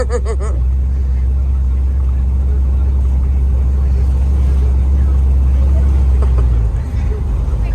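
A 1955 Chevrolet 3100 pickup with an LS V8 swap rumbles loudly and steadily while driving, a heavy low engine drone held throughout, with brief chirps near the start.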